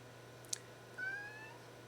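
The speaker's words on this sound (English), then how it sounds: "my cat's saying hi" A house cat gives a single soft, drawn-out meow partway through, faint and alone against a quiet indoor hum.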